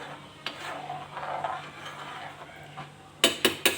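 A spoon scrapes and stirs sauce in a pot over a low flame, soft swishing at first, then three sharp metallic clinks against the pot near the end, close and with no talk.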